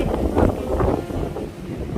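Strong wind buffets the microphone with a steady, loud roar outdoors on a golf course in the Swiss mountains, with no other sounds standing out.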